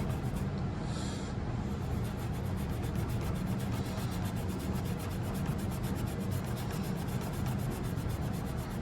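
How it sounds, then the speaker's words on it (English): Paint is scrubbed on a G scale model hopper car with a close, continuous rapid rubbing sound, a steady brisk scratchy texture throughout with no speech. "I am scrubbing, just to let you know."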